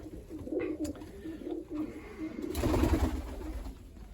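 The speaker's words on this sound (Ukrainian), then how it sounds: "Це сім'я голубів" Pigeons coo softly and repeatedly nearby, overlapping low throaty calls, with a brief rustle of movement partway through.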